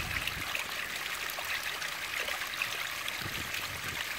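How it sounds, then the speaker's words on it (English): A small stream trickles out through a wall outdoors, a steady bright babble of running water that continues evenly throughout with no voices. "you come across this lovely little stream trickling out through the wall"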